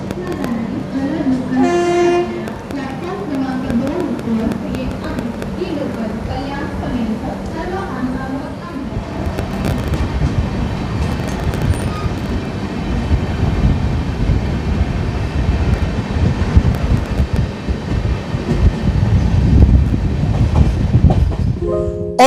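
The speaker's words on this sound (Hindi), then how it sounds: "ट्रेन एकदम स्लो स्पीड में करजत स्टेशन को स्किप कर रही है" Heard from inside an AC chair car of the Pune–Mumbai Deccan Queen Express as it rolls slowly through Karjat station: a low rumble and clickety-clack of wheels with a horn early on, while a voice talks over it.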